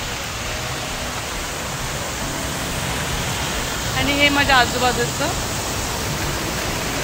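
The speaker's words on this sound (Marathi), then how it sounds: "बघा किती छान पाणी वाहतंय" Steady rushing water flows throughout at an outdoor spot in downtown Houston, with someone talking briefly over the constant wash.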